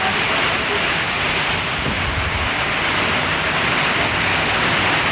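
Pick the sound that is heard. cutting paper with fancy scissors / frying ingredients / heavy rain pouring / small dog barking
heavy rain pouring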